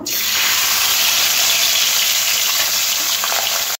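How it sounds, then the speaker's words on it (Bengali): Loud, continuous sizzling and crackling of pabda fish frying in hot oil, a dense hiss that holds steady for several seconds with no talking. "এইবারে গরম তেলের মধ্যে একটা একটা করে মাছ ছেড়ে দেব"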